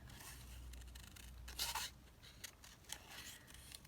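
Scissors quietly snip through paper for a glue book junk journal, with a few soft cuts and paper rustles spread across an otherwise hushed room.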